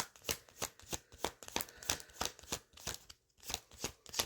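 Tarot cards being shuffled by hand in a steady run of crisp, riffling bursts, each about a third of a second apart, close and clear with a brief pause near the end and no talking.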